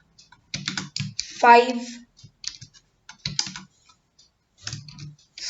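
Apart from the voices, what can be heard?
typing numbers on a computer keyboard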